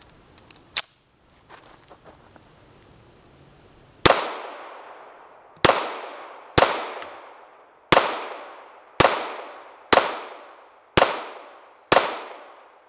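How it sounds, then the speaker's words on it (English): Sharp gunshots from a 1915 DWM P.08 Luger pistol fired at a target about 25 feet away, eight loud evenly spaced cracks each with a short decaying ring, preceded by a few faint clicks and handling noises. "so that's 3 mags from the Luger at 25 feet or so"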